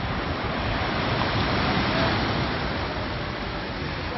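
Sea waves wash onto the beach at Cannes with a steady, full roar of surf, close and continuous, mixed with some wind buffeting the microphone.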